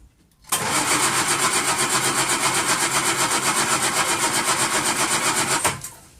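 A 1939 Hillman car engine with a fuel pump fault turns over and catches, then runs with a steady, fast rhythmic chug at close range before cutting off abruptly.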